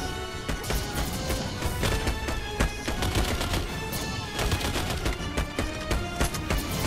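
Heavy guns fire in sustained bursts in the video game Earthfall, a dense, loud clatter of rapid shots and impacts running continuously with no pauses.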